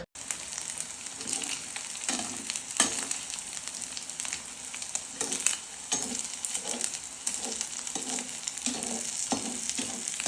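Steady crackling sizzle of a noodle omelette frying in a hot pan, continuous and close, with occasional louder pops and spatters.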